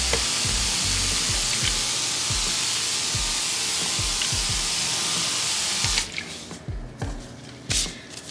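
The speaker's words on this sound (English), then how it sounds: "take a spray bottle and I'm just gonna spray over the cocoa husk to settle all of that dust kick up." Spray bottle misting water over cocoa husk potting material: a rapid series of repeated squirts with a continuous hiss, ending in a few separate sprays.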